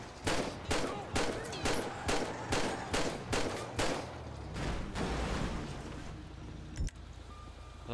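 Video game gunfire crackles in a rapid, evenly spaced volley of loud shots, followed by a denser rumbling burst and a lone later report, with faint talk underneath.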